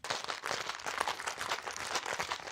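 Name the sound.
shaking a margarita cocktail with ice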